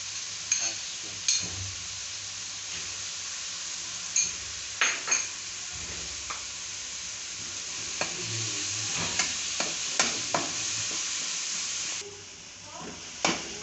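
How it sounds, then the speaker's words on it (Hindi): Spices frying with garlic and ginger paste for crispy okra, a steady close sizzle with occasional stirring clicks and scrapes of a utensil in the pan. "मसाले को अच्छे तरीके से भून लेंगे हम।"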